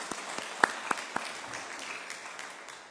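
A Korean Presbyterian church congregation in New Jersey applauds during a Sunday worship service, a sparse, scattered patter of hand claps with a few sharper claps, heard from a distance in a reverberant hall and fading out.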